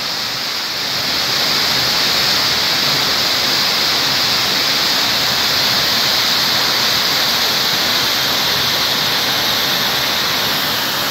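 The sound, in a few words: waterfall at Changey Falls, water cascading down from the hill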